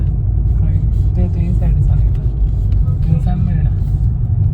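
A car drives along on the way to a shopping trip, its engine and road noise forming a steady low rumble throughout, with faint voices murmuring underneath.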